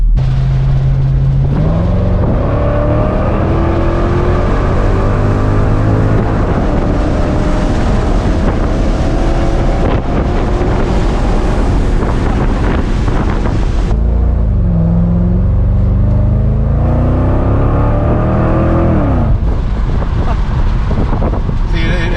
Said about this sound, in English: A little backfire.